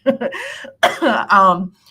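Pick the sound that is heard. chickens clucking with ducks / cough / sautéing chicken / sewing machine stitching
cough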